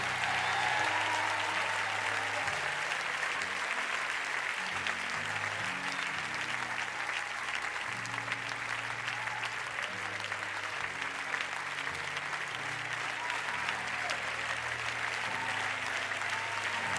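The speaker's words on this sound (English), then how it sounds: "I need y'all to clap like this is a family reunion." A church congregation at New Birth Missionary Baptist Church claps steadily and loudly throughout, a dense sustained wall of applause with a low organ or keyboard chord progression underneath.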